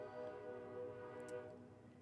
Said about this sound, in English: every time I try to talk, the train horn goes